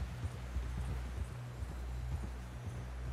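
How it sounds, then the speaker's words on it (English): Horse hooves from Red Dead Redemption 2 clop in a steady, muffled walking rhythm over low rumbling ambience in a snowy setting, fairly quiet and continuous. "Someone help John down off this horse."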